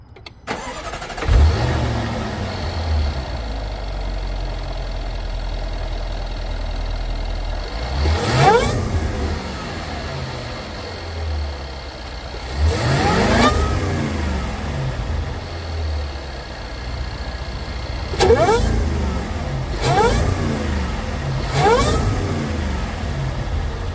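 A Jaguar F-Pace SVR's supercharged engine, fitted with a loud carbon fiber intake tube, idles with a low steady drone, then revs sharply four or five times, each rev rising and falling over a few seconds with no talking.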